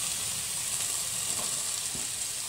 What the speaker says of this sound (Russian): И также все это немножко обжариваем